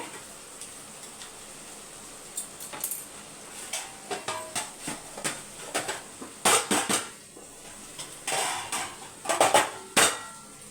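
Knife scraping and tapping against the side of a cooking pan to loosen a half-cooled sweet mango pachadi, a series of short metallic clinks and scrapes in an otherwise quiet kitchen.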